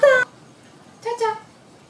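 A cat meows twice, begging for food from diners at a table during a Thai-food lunch of khao man gai, two short close cries separated by a pause, with no talk in between.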